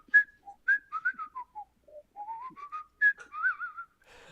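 A person whistles the piccolo part from Stars and Stripes, a clear, close melody of quick bright notes and short trills with brief pauses between phrases, alone with no talking.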